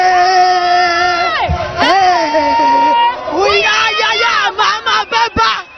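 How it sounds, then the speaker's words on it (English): An excited crowd at an outdoor community durbar at Teshie Gonnor School Park shouts, whoops and cheers loudly and continuously, with voices rising and falling close by, ending in a few sharp bursts of yelling. "We are still here at the Gonnor School where the crowd is excited and electric"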